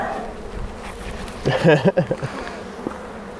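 Wild-caught bees buzz at a hive in a low, continuous hum, with a brief louder flurry of nearby wingbeats midway.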